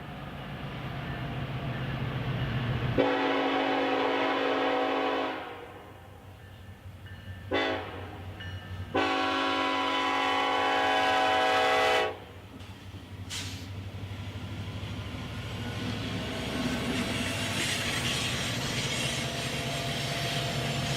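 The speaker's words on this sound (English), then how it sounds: "Groaning uphill, an SD70 Ace takes the siding with an empty coal train." BNSF SD70ACE diesel locomotive groaning uphill into a siding with an empty coal train of hoppers; a loud engine drone with strong bursts that cut in and out, over a steady low rumble.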